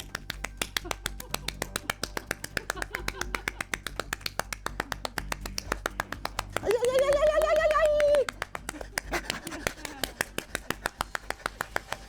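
Very rapid, steady hand clapping at a world-record pace for claps in one minute, dense sharp claps repeating throughout, briefly overlapped by a sustained sung or shouted vocal tone in the middle.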